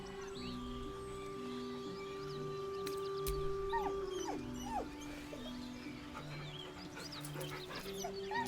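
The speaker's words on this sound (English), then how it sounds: "With a deep, heartbroken whine," A dog in Baldur's Gate 3 gives deep, heartbroken whines, with drawn-out falling cries and whimpers over a steady low ambient game score.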